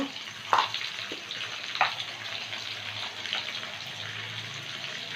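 Chopped onion fries in a pan with salt and turmeric for a fish curry, a steady close sizzle broken by a few brief clinks and scrapes of stirring.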